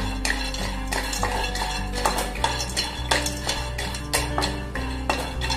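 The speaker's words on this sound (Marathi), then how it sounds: "कढई गरम झाली, बदाम टाकते आधी, थोडे हलके परतून घेऊ आपण यांना।" Almonds are dry-roasted and stirred in a hot, heavy-bottomed kadhai. A close, rhythmic clinking and scraping of the utensil runs throughout over a low steady hum.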